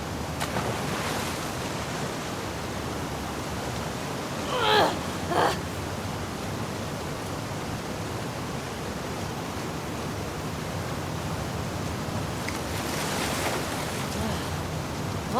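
Ocean waves in The Last of Us Part II, heard while swimming toward the aquarium as Ellie: a steady rushing surf roar with two brief louder splashes midway and another swell near the end.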